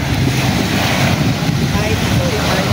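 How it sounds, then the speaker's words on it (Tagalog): Strong water current and gusting wind at Dumaluan Beach Resort in Panglao, Bohol, on a rainy day at high tide, with a steady loud rush of surf and wind buffeting the microphone throughout. "malakas ang current ng tubig ngayon"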